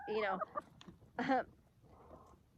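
Backyard chickens, including a rooster, cluck and squawk close by in two loud bursts, followed by softer low clucking.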